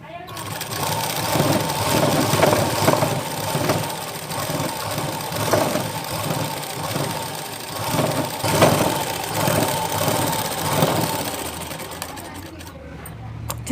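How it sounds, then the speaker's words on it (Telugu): A sewing machine runs a long double-stitch seam on a frock, its fast steady mechanical whirr and rattle continuing close and loud for over ten seconds before slowing to a stop, with someone talking over it. "చూసారు కదా, మళ్ళీ ఒకసారి ఒక కుట్టేసేద్దాము."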